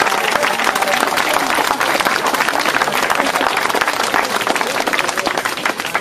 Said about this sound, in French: souhaiter la bienvenue sous un tonnerre d'applaudissements à notre ami Jean Sarkozy